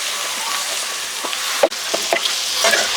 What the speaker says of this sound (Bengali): টমেটো দিয়ে মশলার সাথে খুব ভালো করে মিশিয়ে হালকা ভেজে নেব